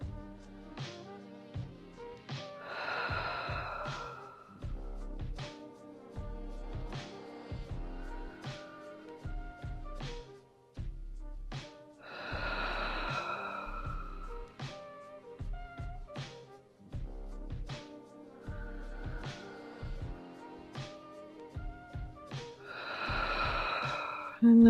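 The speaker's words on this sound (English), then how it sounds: "Take a few deep breaths." Slow, deep breathing during a guided relaxation exercise, with several long audible breaths spaced across the stretch over soft background music.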